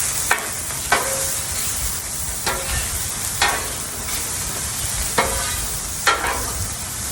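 Onions sizzle steadily on a hot Blackstone griddle, a dense continuous frying hiss broken by sharp scraping clicks of a spatula roughly every second, close and fairly loud with no talking.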